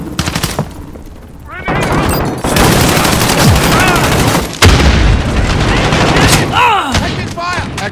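Heavy gunfire in a nighttime Call of Duty Modern Warfare match, dense overlapping rifle and machine-gun bursts with booming hits, loud and nearly continuous, with shouted voices mixed into the chaos.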